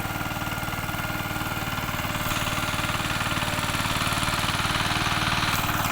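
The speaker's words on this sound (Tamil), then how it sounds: "அதாவது இப்போ டிராக்டர் அடித்த பிறகு ரெண்டாம் சைடு வந்து ஓட்டிக்கிட்டு இருக்கார்" A tractor ploughing a paddy field to prepare it for rice transplanting runs as a steady, close, droning engine with a rhythmic mechanical throb, holding level and growing slightly louder toward the end, with no voices.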